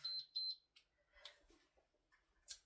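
A workout timer alarm sounds during a seated strength and stretching session for older adults, giving a few quick, loud, high beeps before stopping, followed by quiet handling noises and soft rustling.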